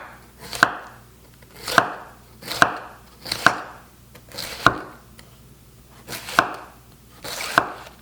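A knife slices cabbage into fine strips on a cutting board for a German cabbage salad. About nine crisp, close chops land at a steady, unhurried pace, with no talking.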